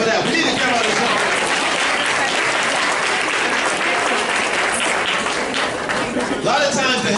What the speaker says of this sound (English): We're gonna hand clap for that.